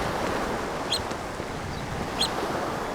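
Storm waves and wind roar continuously over the Yellow Sea during a typhoon, a dense wash of surf with two brief, high bird calls cutting through.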